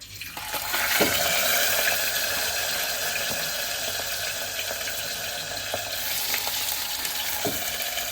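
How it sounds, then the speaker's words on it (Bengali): Steady, close sizzling of farm chicken frying in a hot pan, a continuous crackling hiss with a few small clinks, no voices. "এখন ভেজে নেব মাংসটা।"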